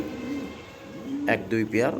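Pigeons of fancy breeds, an Afshan grizzle and a tiger, coo in a loft, a few close, throaty rolling coos arriving near the end after a quieter stretch of background murmur.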